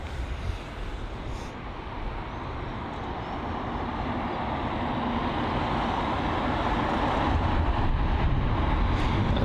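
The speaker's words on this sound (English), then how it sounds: "Qatar Boeing 777 on the opposite side of the runway, or the airport. So that's taxiing to 27 left for departure." A Qatar Airways Boeing 777 taxiing toward runway 27 left for departure at London Heathrow, a steady broadband jet roar that swells slowly over the clip, distant and continuous with no voices.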